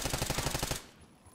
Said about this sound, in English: I was shooting at a body rolling down the hill.